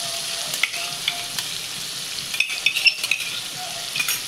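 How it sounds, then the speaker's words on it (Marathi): Tomatoes with a ground paste of ginger, garlic, coriander and green chillies sizzle steadily in a pan for a kaleji masala dish, with scattered scraping stirs and light utensil taps close up, no talking. "त्याच्यात टोमॅटो टाकते आणि हे टोमॅटो पण चांगलं परतून घ्यायचं"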